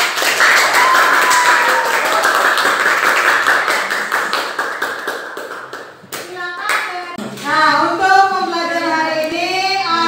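Students in a classroom clap for a small group during a school lesson, a dense patter of hand claps filling the first six seconds before thinning out as a voice begins speaking.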